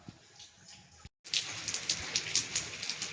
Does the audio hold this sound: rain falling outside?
yes